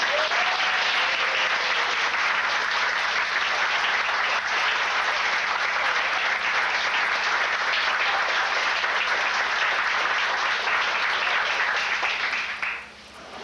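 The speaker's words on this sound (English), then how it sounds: "I'd like another round of applause." A room full of guests at a fifth anniversary celebration gives a sustained round of applause, thick even clapping holding steady for several seconds before cutting off abruptly near the end.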